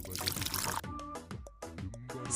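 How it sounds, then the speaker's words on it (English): A cartoon pizza-cooking game plays a sound effect of tomato sauce being poured into a pan, a short watery gush followed by brief splashy bursts and drips, close and fairly loud. "Open the tomato sauce lid carefully and pour it to the pan."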